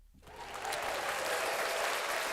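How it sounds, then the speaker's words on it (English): Applause swells up after a brief quiet moment and holds as a thick, even roar of many clapping hands from a crowd at a live talk show, steady and fairly loud to the end. "round of applause for everybody that was"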